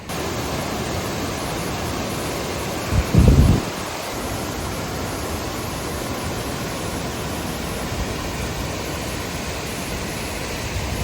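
Steady broadband roar of a waterfall beside the Housatonic River in Connecticut on the Appalachian Trail, constant and loud with a brief thump partway through, no voices.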